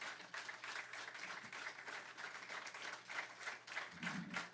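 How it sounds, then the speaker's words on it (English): Audience at a citizens' recognition awards ceremony applauding the mayor, a continuous soft wash of many hands clapping, faint and distant, with a brief low rumble near the end. "Let's give him a hand"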